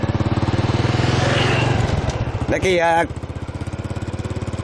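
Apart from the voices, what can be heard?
motorcycle engine started and riding off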